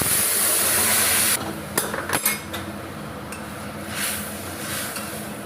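Dal tipped into hot oil with radhuni and cumin: a loud sizzle cuts off, followed by a few sharp metallic clinks of a utensil against the pan and a softer ongoing fizz.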